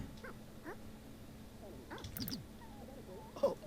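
Dog whines in the Sims 4, short high whimpers and yips spaced through the clip, moderately close with light background noise.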